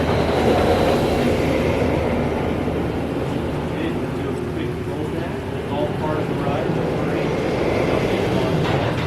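Ice Breaker roller coaster train at SeaWorld Orlando running along its track during a test run, a steady loud rumble with rail clatter and rising whines throughout, with people talking nearby.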